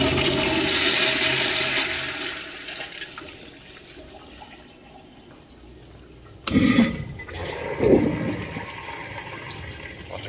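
A 1960s Mansfield toilet in a school building flushes poorly with a weak rushing wash that fades, then a sharp clunk and renewed gurgling water close by.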